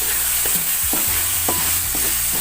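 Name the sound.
sautéing garlic, onion and tomato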